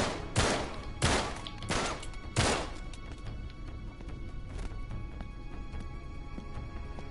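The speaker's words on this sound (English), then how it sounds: "What the hell are you guys shooting at?" Four loud, sharp gunshots from the video game Uncharted crack in quick succession, roughly a second apart, followed by a low rumbling ambience with no further shots.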